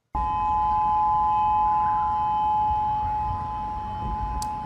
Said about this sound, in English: Those are the tsunami warning sirens.